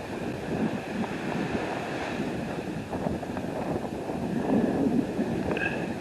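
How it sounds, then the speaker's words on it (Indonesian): Strong wind gusting steadily around a tent beneath a tree, a continuous broadband roar that swells slightly toward the end, with no talking. "angin begitu kencang, dan dari tadi malam kencang sampai pagi ini"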